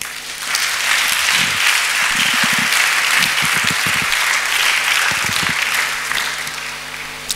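A church congregation at a Sunday service claps in sustained, dense applause that fills the room evenly for several seconds before tapering off slightly at the end.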